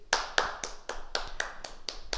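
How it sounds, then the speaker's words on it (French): A small group claps hands for a martial arts school class, a sparse, slightly uneven run of about nine sharp claps, close and fairly loud, with no voices. "On s'applaudit, mesdames, messieurs."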